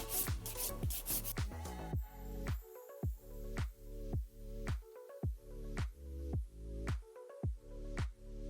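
A nail file buffs a fingernail plate to a matte finish in a run of steady, evenly spaced rubbing strokes, close and soft, after a quicker flurry of strokes at the start.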